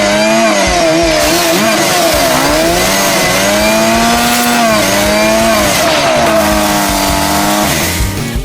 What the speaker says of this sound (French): Écoute, il y a une tronçonneuse ici.